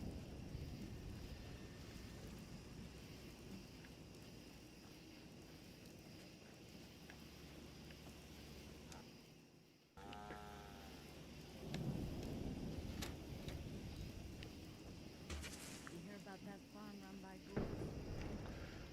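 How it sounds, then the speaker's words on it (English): Steady rain with rumbling thunder in the settlement-building video game Murkwater, a constant wash of rainfall running the whole time with a louder swell and crack partway through, while a person talks over it. "And the rain just won't let up."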